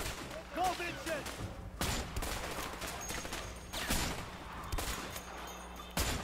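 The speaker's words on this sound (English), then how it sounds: "I'm just providing suppressive fire." A video game shootout in A Way Out, with repeated sharp gunshots in separate bursts over a constant battle background, some shots loud and close, with voices speaking at points.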